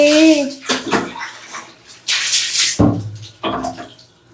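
Water is poured over a dog in splashing bursts during its bath, several gushes spaced a second or so apart, close by, with a voice speaking briefly at the start.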